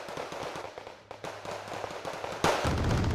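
A Flak Panzer anti-aircraft gun fires on infantry in the video game Wargame Red Dragon. A rapid stream of sharp, crackling shots carries on steadily, and a heavier burst or blast comes near the end.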